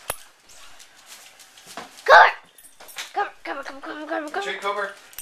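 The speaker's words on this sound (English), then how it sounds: "This is my dog, Cooper." A dog yips and whimpers, with one sharp bark-like burst standing out amid lively talk and calling from people close by.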